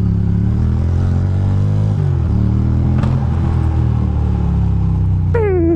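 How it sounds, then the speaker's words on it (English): A motorcycle engine rumbles loudly while riding, with a single sharp backfire pop near the middle, followed by a rising engine whine at the end. "My bike backfires once in a while now"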